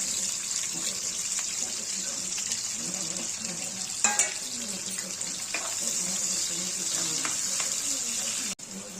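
Sliced onions hit hot oil for beresta, a steady bright sizzle and hiss of frying that runs throughout, with a few clinks and stirring knocks and faint speech in the background.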